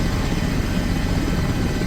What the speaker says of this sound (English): Helicopter landing in your front yard.